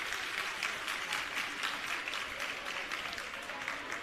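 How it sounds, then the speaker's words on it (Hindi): Applause at the inauguration of a government school building in Delhi, a crowd clapping steadily and fairly faint, dense and even throughout with no clear speech. "आइए एक बार पुनः जोरदार तालियों से शामिल हों इस अभिनंदन में"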